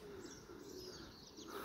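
Racing pigeons in a loft coo softly with a few faint chirps. The sound is quiet and continuous, with no voices.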